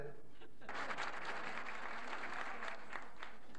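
A hall audience at a 1989 opening-night celebration applauds the winners, a steady wash of clapping that sets in after a brief pause and holds evenly throughout, fairly close and full.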